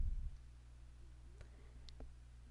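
A computer mouse gives a few faint, quick clicks spaced about half a second apart over a low, steady room hum. The clicks sit close and quiet, and nobody talks.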